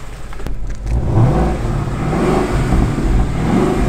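A Ford Mustang pulls in with its engine revving, a rough mid-pitched growl that rises and swells over a few seconds, close and fairly loud against outdoor background noise.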